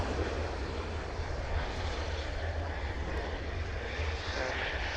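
An RAF Typhoon FGR4 delta-wing jet lines up for a slow speed pass at the RIAT airshow, its engine roar a steady, continuous rumble from a distance with no talk.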